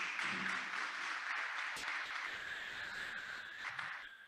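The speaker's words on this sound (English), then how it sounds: "That deserves a round of applause," An audience applauds at an early childhood development census event, a faint, steady wash of distant clapping from a large crowd that carries on evenly throughout.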